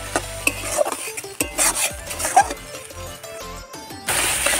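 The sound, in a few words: stirring and frying tomato paste for prawn dopiaza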